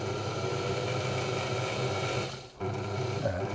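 A 1950s Singer 185K sewing machine turns over with a steady mechanical hum and light vibration, its mechanism still driving while disengaged, with a brief dip in the whir about two-thirds through.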